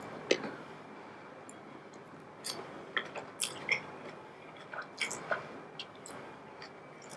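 Someone chews a mouthful of plant-based, oil-free pad thai with rice noodles, tofu, green onion and lime, producing soft, close, wet squishy chewing bites in a quiet room.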